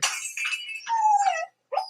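A puppy knocks over and breaks a vase: bright clattering, shattering glassy tones ring out for over a second, then a short final clink after a brief silence, close and fairly loud with no talk.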